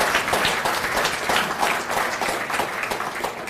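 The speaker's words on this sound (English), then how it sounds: "So could I please have a round of applause for all of those who've made such a contribution." Steady applause from an audience at a formal event honouring contributors, a dense even wash of many hands clapping at moderate level throughout with no talk.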